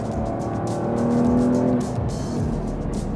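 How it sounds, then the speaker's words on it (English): A 2025 Porsche 911 Carrera with the optional sports exhaust, in Sport Plus mode, revs hard up close. Its engine note rises and swells steadily over a few seconds with no talking. "Listen to that noise. Does that sound like a base model to you? This car does have the optional sports exhaust"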